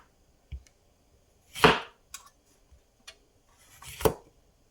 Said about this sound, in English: We're gonna cut these into whole slices.